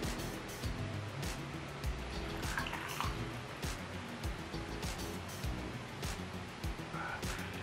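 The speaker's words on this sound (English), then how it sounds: "so we got our beer here and let's pour some." Ice cold beer poured from a bottle into a glass, a steady close splashing and fizzing stream lasting several seconds.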